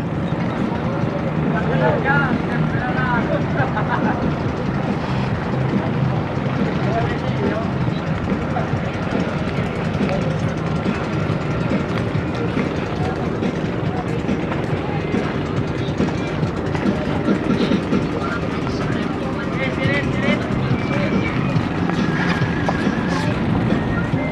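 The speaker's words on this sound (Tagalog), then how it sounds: "Ito yung sasakyan naming bangka pagtawid." A passenger boat used for the crossing at Lawang pier, its steady motor rumble and churning going on for the whole stretch under frequent nearby talking and general dockside noise.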